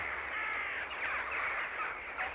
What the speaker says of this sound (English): Somehow, the crows' harsh cries are always soothing to my ears after a hard morning on the job.